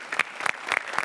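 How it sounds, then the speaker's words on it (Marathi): Short burst of audience applause on a Marathi comedy show set, several claps in quick clusters, moderately loud and close. "जोरदार टाळ्या"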